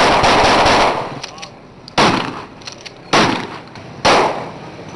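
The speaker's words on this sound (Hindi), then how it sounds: "फैसला आने के बाद कई शहरों में पीपल्स पार्टी का एहतजाज, हवाई फायरिंग भी की गई" Automatic gunfire fired into the air during Pakistan Peoples Party street protests, loud sustained bursts in four rapid volleys, each starting sharply and trailing into echo, with no talk.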